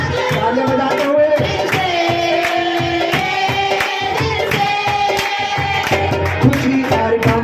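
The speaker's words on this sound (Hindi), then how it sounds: "तालियां बजाते हुए" Rhythmic congregational hand clapping during a Hindi Christian worship song, regular claps mixed under loud music and singing voices from start to finish.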